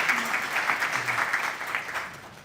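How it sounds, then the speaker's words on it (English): Applause from a symposium audience in an academic hall, a moderate round of clapping from a crowd, steady and fairly close, fading slightly at the end. "give a round of applause to all the organizing committee"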